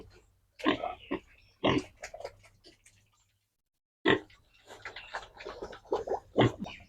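A farm pig gives a run of snorty grunts and oinks in two busy clusters with a silent gap between them. The sounds are close and fairly loud, with no talk over them.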